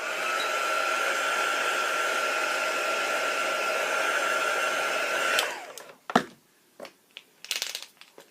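A hair dryer blows steadily and fairly loud on a mixed media bird artwork for about five seconds, then cuts off, leaving a few faint clicks and handling taps.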